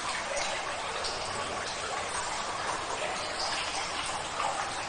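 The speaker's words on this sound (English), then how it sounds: "Constant sound of dripping." Water drips constantly inside the dark brick Hardham Canal Tunnel, making a steady hiss of falling drops and trickles that fills the whole stretch evenly, with no voices.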